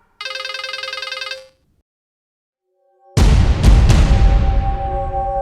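A mobile phone rings with an incoming call, a loud electronic ringtone lasting just over a second, followed by silence and then a heavy, booming crash.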